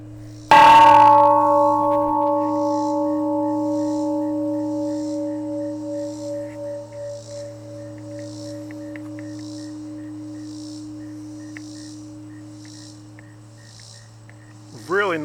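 A big hand-forged steel temple bell weighing about 100 pounds gets one loud strike, then a long ringing resonance slowly fades over many seconds with a wavering shimmer. A faint light tap comes at the very end.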